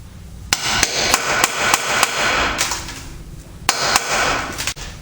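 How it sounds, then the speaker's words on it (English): Sharp metallic hammer blows drive a 6-point socket onto crusty, frozen front axle studs of a Ford F-150 or Bronco 4x4, striking in two loud bursts of rapid, irregular hits separated by a brief pause, with no talking. "I'm now going to beat a 6-point socket on there"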